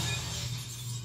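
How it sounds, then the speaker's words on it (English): Glass shattering in a TV show scene, a single crashing break with bright debris that holds steady across about a second, under a low hum, with no talking. "More broken glass."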